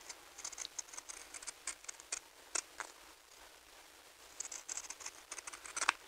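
Scissors cut fabric close to the stitches during a sewing lesson, giving soft, crisp snips in uneven clusters with a pause in the middle, quiet and close, with no talking.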